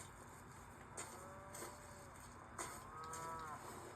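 A Lego cow in the video game Lego Fortnite Odyssey moos several times, drawn-out calls heard faintly over a steady ambient game background, with no talk.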